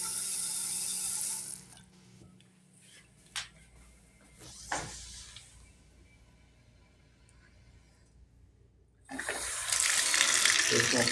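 Water runs from a tap into a sink in a rental property and drains away, heard in loud hissing bursts at the start and end, with clunks and someone talking in the quieter middle.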